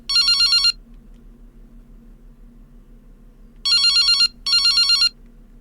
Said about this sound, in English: It's my cell phone.